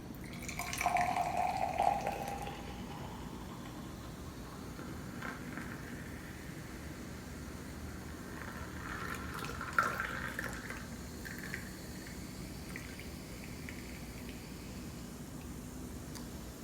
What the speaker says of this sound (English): Let's pour it in.